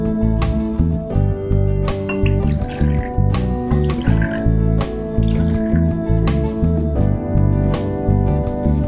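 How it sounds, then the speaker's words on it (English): Water pours into a glass container in a series of close, trickling drips and splashes, heard over a steady musical background. "Again we will add water."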